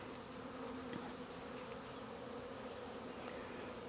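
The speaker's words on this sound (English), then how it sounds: "Tons of bees flying around right now." A soft, continuous drone of many bees flying around a hive nearby, steady and even throughout, with no voices.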